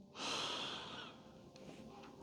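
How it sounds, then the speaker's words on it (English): A single slow, deep in-breath during a gentle yoga pose, close and soft, swelling quickly and then tapering off into a quiet room. "And breathing in."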